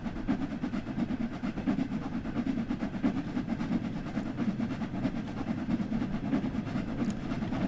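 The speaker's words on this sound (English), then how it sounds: "Oh well, let's go get our train." A steam train rumbles along steadily in Train Sim World 2, on a run toward Crewe: a dense, constant rolling roar with faint rhythmic clatter, loud and close throughout with no voices.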